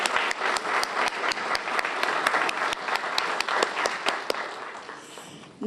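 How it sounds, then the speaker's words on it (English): An audience at a Chancellor's Awards ceremony breaks into steady, sustained applause of many hands clapping at once, which holds moderately loud and then begins to thin out at the end. "let's give him a round of applause for his creativity"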